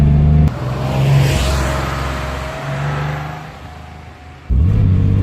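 An air-cooled Porsche 911 Targa engine pulls through gears while driving, revs rising and dropping in surges with brief lifts between shifts, loud and close from inside the car.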